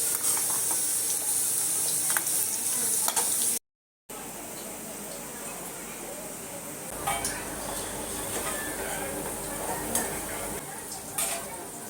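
Kothimbir vadi frying in oil makes a continuous sizzle, broken by a short gap. Occasional clinks of a utensil against the pan come through, and faint household sounds sit in the background.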